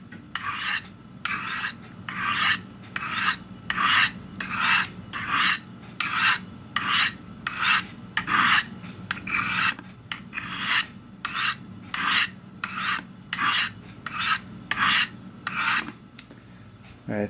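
A knife blade is drawn repeatedly across the rods of a Spyderco Sharpmaker, giving about eighteen evenly spaced gritty rasping strokes, close and clear with nothing else heard.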